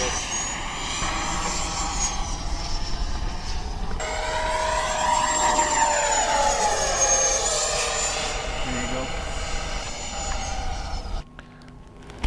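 An FMS Integral 80mm EDF jet RC plane flies past with a high, whining ducted-fan tone that rises and falls as it passes, loud and sustained before cutting off abruptly near the end.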